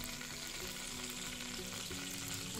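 Chopped onion frying in oil in a pan, part of making pasta in white sauce with oregano, gives a steady, faint sizzle with light stirring and no talk.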